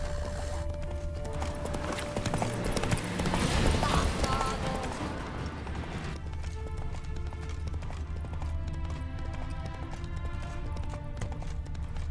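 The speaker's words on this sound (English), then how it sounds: "Calm down, Roach. Just bees." In The Witcher 3, a horse gallops with rapid hooves drumming over a backdrop of game ambience and music; the hoofbeats are fairly quiet and continuous, then give way to calmer sound partway through.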